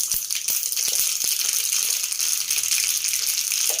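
Mustard seeds and cumin crackle in hot oil for a tempering, a steady bright sizzle broken by quick sharp pops, loud and close with no talking.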